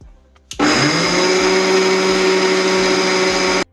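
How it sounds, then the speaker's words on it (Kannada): After a brief clatter, a mixer grinder starts up and runs loudly and steadily, a high whirring motor whine with the rattle of mustard seeds spinning inside. "ಈಗಷ್ಟು ಮಿಕ್ಸಿಗೆ ಏನ್ ಇಟ್ಕೊಂಡಿವಲ್ಲ ಸಾಸಿವೆನ"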